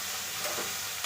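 Sambar masala frying in a pan gives a steady, close hiss of sizzling oil that runs throughout, with a few faint stirring scrapes and no voices.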